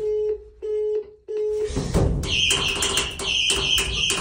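An elevator emergency phone in a stuck Výtahy Bohumín lift in Orlová, Czechia, gives three loud, steady beeps, followed by a burst of noise and rapid, high chirping tones that continue to the end.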